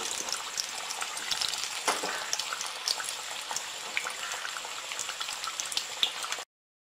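Potato kachoris fry in hot oil. A continuous bubbling, crackling sizzle with scattered pops goes on at moderate loudness and stops abruptly at the end.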